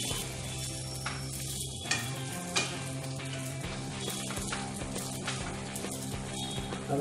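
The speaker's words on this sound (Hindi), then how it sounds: "पहले साबूदाने को अच्छे से मिक्स करना है," Soaked sabudana stirred in a pan over a low gas flame for upwas khichdi, a steady close sizzle with soft scraping and stirring throughout, no voices.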